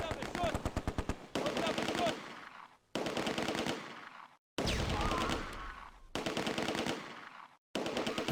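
Bren gun machine-gun fire in the Close Combat wargame at Arnhem Bridge, loud rapid bursts of gunshots in several separate volleys with brief silences between, mixed with crackling battle noise.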